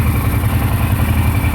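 A 2008 Kawasaki Brute Force 750 ATV engine idles close by, a loud steady throbbing rumble with a regular pulsing beat.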